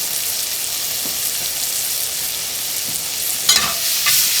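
Shrimp finishing cooking in a pan, giving a loud, even sizzle throughout with a couple of brief clatters near the end and no speech.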